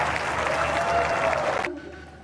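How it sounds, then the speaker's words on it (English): A crowd applauds tennis players, a dense sustained wash of clapping that cuts off abruptly, leaving faint room noise. "Let's give them a robust round of applause to all the players."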